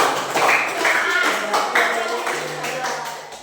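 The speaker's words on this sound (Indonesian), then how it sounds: "Tepuk tangan untuk kelompok." A class of junior high students claps together in a brief burst of applause that tapers off, with voices murmuring underneath.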